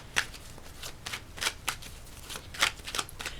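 Tarot cards being shuffled by hand, a run of crisp riffling and flicking bursts in an irregular rhythm, close and fairly quiet with no talking.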